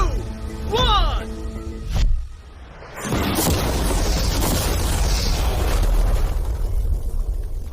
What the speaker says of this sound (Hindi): वो धमाके को बिल्कुल नहीं सह पाई।